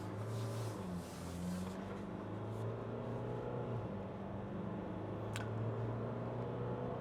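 A 2024 Ford Ranger Wildtrak X pickup accelerates hard, its engine droning steadily and climbing in pitch under a constant road and cabin roar.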